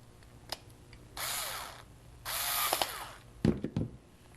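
A screw is tightened down on a homemade bucket light fixture: short ratcheting and whirring bursts from a small driver, two sustained spells of grinding separated by pauses, then a few sharp clicks near the end.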